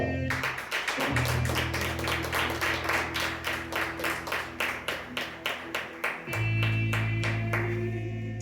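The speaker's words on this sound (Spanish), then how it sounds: "Un aplauso a Dios" Rhythmic congregational clapping in a church service, steady claps ringing out in time over sustained organ or keyboard chords, loud and close.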